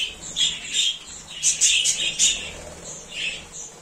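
Young domestic birds about five to six months old chirp and squawk in repeated bursts while playing with and eating sawdust, the calls close, fairly loud and overlapping in an irregular rhythm with no talk.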